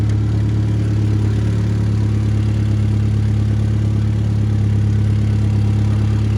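Old VW car engine idling in freezing -2 degree cold while warming up on choke, a loud, steady, close mechanical drone with an even low hum and no talking.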